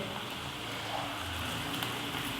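Okra frying in hot oil gives a steady, dense sizzle and crackle, continuous and fairly close, with no talking over it.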